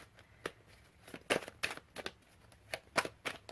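A tarot card deck being shuffled by hand, a series of quick riffling bursts and soft clicks close by, irregularly spaced, with no talking over them.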